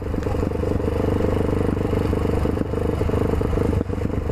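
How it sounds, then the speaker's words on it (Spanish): A faulty motorcycle engine runs roughly and loudly, its steady clattering drone broken by sharp pops, the clearest near the end, suggesting backfires. "Hace contraexplosiones."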